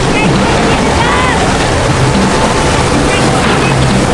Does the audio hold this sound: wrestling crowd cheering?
no